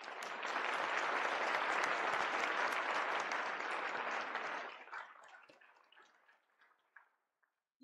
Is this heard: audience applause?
yes